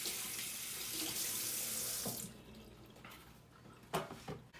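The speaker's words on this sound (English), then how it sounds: "You get the top, rinse that off." Tap water runs steadily into a sink while a Kool-Aid container top is rinsed under it, a close broadband gush that cuts off after about two seconds, leaving a few faint drips and splashes.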